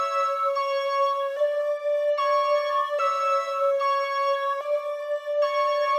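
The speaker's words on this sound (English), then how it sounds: "both those melodies together sound like this." Two distorted FL Studio synth melodies play together, one holding a steady low note while bright layered notes step through a repeating phrase, continuous and clear with no voices.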